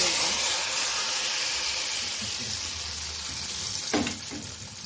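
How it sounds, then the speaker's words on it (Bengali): Hilsa fish topped with black cumin sizzles in hot oil with a steady hiss, and a brief louder spatter comes near the end. No one speaks. "এখন আমি এটা তেলের উপরে দিয়ে দেবো।"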